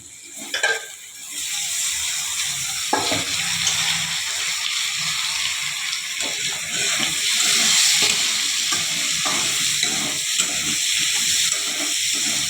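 Boiled potatoes stirred and fried in a hot pan with tomato, a continuous loud sizzle and hiss with scraping stir strokes, close and alone.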